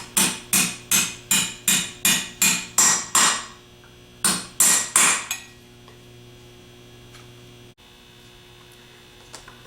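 Metal extension tapped with a hammer to seat a bushing into an SD starter housing: about a dozen sharp, ringing strikes in a quick even run, a brief pause, three more taps, then only a low mains hum remains.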